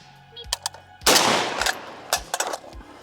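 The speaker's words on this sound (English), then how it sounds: "Now we are shooting lacquer-coated Barnaul." A Zastava M77 .308 AK-pattern rifle firing lacquer-coated Barnaul ammunition: a single loud, close shot with a long echoing tail, followed by metallic clicks and clatter of the action.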